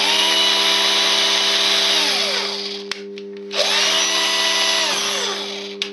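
A cordless drill powered by a homemade power supply whirs steadily at close range, stops briefly near the three-second mark, then spins back up and runs on, with no speech.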